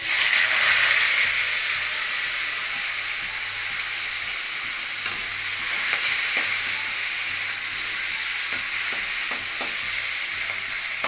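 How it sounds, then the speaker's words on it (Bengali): Dried fish (shutki) frying in white oil in a wok: a steady, close sizzle and hiss runs throughout, with occasional light scrapes and clicks from stirring. "আর এই যে আমি এখন কড়াইতে তেল দিচ্ছি, এই যে ভেজে নেব।"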